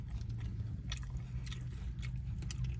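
Crisp crunches of someone biting and chewing a crunchy chicken birria taco from El Pollo Loco sound close up. About five distinct crunches come at a steady pace over a low background hum.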